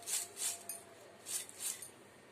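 Homemade crunchy potato mixture being stirred and tossed in a bowl, giving four soft, dry rustling crunches in a slow rhythm, close and faint, with no voices.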